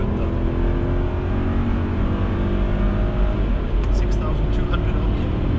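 A Mercedes-Benz W163 M-Class with the M113 5-liter V8 engine floored to about 6,200 rpm, a loud steady engine roar held throughout under road noise, with people talking over it.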